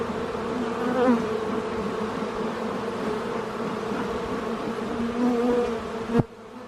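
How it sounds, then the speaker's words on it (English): Bees buzz loudly and steadily in an opened beehive, a dense droning hum that swells in places, followed near the end by a sharp knock as the hive parts are handled. "Full of bees, full of everything."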